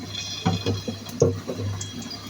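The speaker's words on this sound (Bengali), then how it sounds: "এই যে আমি পরিমাণ মতো তেল দিয়ে দিলাম" Cooking oil trickles into a pan for okra with dried shrimp, a few soft, close splashy gurgles spread over a couple of seconds.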